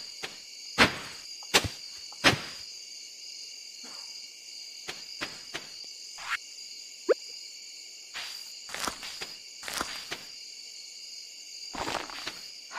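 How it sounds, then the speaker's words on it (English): Evening crickets in Stardew Valley, a steady high-pitched chirping drone running throughout, broken by scattered soft footsteps and light clicks in the foreground. "The crickets of the evening do sound."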